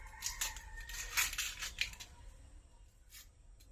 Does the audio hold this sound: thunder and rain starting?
no